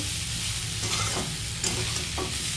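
Underground potatoes (a tuber) cooking in a pan for lunch give a steady, close sizzling hiss with faint stirring scrapes, and no one speaks.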